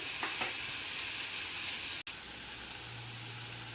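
Vegetables and tikki sizzling in a hot pan as they are stirred, a steady soft crackle and hiss with a few light scraping touches, quiet and close.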